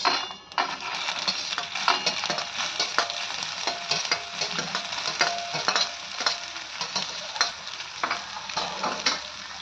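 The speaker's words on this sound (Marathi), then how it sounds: "जिरं मोहरी तडतडल्यानंतर जे सोयाबीन होते ते टाकून द्यायचे आहेत" Soybeans dropped into hot oil with crackling cumin and mustard seeds, a loud continuous sizzle with stirring scrapes and spatula clicks throughout, close and steady with no talking.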